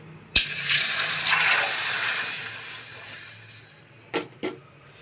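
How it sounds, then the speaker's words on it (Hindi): Water gushes into a pan of roasted daliya (cracked wheat) in a home kitchen, a sudden pour that hisses and sizzles then fades, followed by two short clinks of utensils. "पानी डाल दूँगी।"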